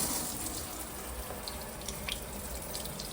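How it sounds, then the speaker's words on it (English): Cold tap water runs steadily through a water pre-filter during installation of a Kangen K8 and Multipure Aquaperform setup, a continuous close hiss of flow with a few faint drips and gurgles. "Now I turn the cold water on. You're gonna hear it flowing."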